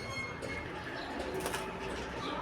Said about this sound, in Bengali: এই যে আমাদের পাখিগুলি